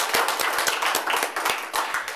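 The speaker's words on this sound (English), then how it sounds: "let's give a round of applause to the candidates" Brief applause for election candidates at a chamber of commerce forum, a few people clapping close by in distinct, uneven claps rather than a full crowd roar.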